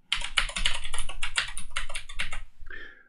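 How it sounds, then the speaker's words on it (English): An SSH command is typed on a computer keyboard, a quick close run of crisp key clicks in an uneven rhythm, followed by a brief pause and a final softer key tap. "So we'll type in SSH, the username, at the IP address."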